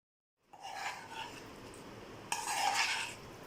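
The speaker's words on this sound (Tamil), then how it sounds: "டொமேட்டோ ரைஸ் நல்லா மிக்ஸ் பண்ணிக்கலாம்" A spoon stirs tomato chutney through cooked rice, giving close scraping and clinking against the dish in two bursts, the second louder, with no talking.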